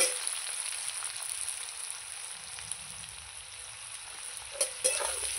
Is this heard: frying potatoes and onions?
yes